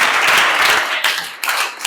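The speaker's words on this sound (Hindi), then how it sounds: "आप अपने पेरेंट्स के लिए क्लैपिंग करो" Schoolchildren clap for their parents in a short, loud burst of dense applause that dips and surges before cutting off.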